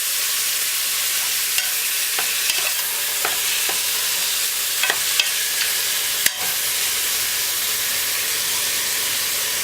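Chopped onions, scallion, garlic and ginger hitting hot oil with seasoning in a pot for stew peas, a loud steady sizzle with faint stirring clicks and one sharp clack.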